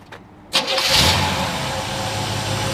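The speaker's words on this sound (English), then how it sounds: "We'll go ahead and fire this one up for you." A 1956 Chevrolet 150 with a 350 V8 cranks briefly, then catches with a loud burst and settles into a steady, rumbling idle close by, with no talking.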